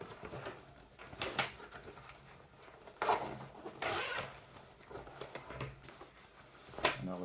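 A zipper on a bow case is pulled open in a few quick, quiet rasping strokes with pauses between, close by in a calm room.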